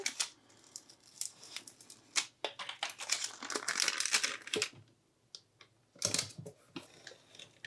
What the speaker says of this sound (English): I have the pattern paper over here.